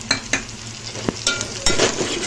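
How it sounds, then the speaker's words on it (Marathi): Curry leaves, onion and tomatoes sauté in a hot pan for a Maharashtrian egg curry, giving a steady sizzle broken by several sharp scrapes and knocks of a spoon stirring against the pan. "टोमॅटो आपण चांगला परतून घेऊया"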